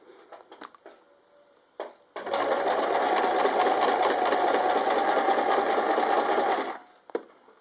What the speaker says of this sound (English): take one stitch forward, and do a reverse stitch just to lock that in place, and then sew on through.